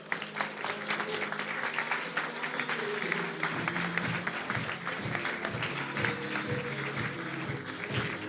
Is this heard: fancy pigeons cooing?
no